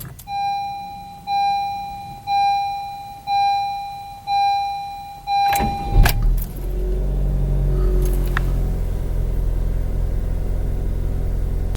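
A car starts up after a series of repeated warning chimes, its engine rumbling steadily and growing as it pulls away, with no talking.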